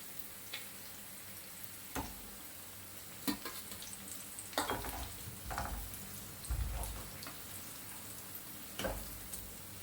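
Chicken pieces frying in a pan for a simple home chicken fry, a steady soft sizzle broken by several sharper stirring scrapes and clatters, heard close with no talking.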